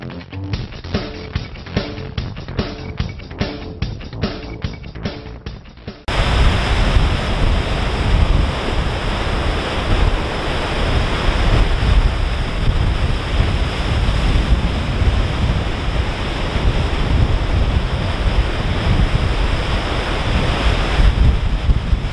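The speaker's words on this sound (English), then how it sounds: "the winds are still pretty strong coming off the lake" Strong gusting wind off Lake Erie during a fall storm roars across the microphone alongside the steady wash of breaking waves, loud and continuous throughout.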